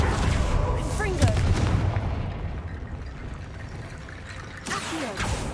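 Confringo blasting spell cast in Hogwarts Legacy, heard as a few sharp, booming bursts over a busy background of game music and effects, with a voice speaking near the start.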